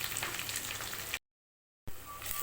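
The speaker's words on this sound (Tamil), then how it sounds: "வெங்காயம் ரெண்டு பச்சை மிளகாய் கருவேப்பிலை இது எல்லாத்தையும் போட்டுக்கலாம் போட்டு நல்லா வதக்கிட்டு" Onions, green chillies and curry leaves sauté in an Indian home pan, giving a steady close frying hiss that cuts out briefly to silence midway, then resumes.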